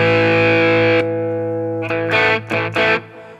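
Electric guitar through a Zoo Drive overdrive pedal set to light gain mode: a sustained chord rings and decays, followed by a few chopped, rhythmic strummed chords with mild grit.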